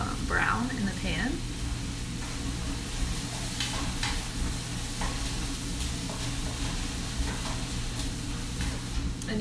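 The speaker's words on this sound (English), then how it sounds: "You're gonna leave them whole just to like fry up and get a little brown in the pan." Whole canned chickpeas sizzle in a pan over medium heat, a steady frying hiss with occasional stirring scrapes, while a person talks throughout.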